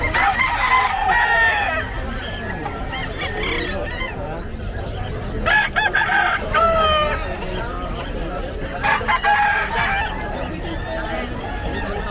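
Gamecocks for sale at the Bocaue market crow repeatedly, several loud crows at intervals amid clucking and a busy crowd, with people talking throughout.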